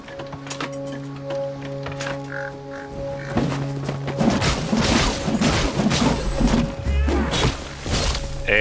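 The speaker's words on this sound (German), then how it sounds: "Der Speer ist explodiert." An exploding spear in the action game Ashen, heard as a burst of crashing, rumbling impacts that follow a steady tonal game hum and then sustain amid clattering debris, fairly loud, with no talk over it.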